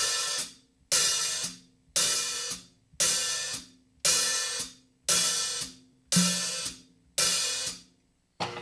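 A drum kit repeats a steady beat about once per second, each stroke a bright open hi-hat wash that rings, then cuts off sharply on an eighth-note close, with low drum thumps beneath.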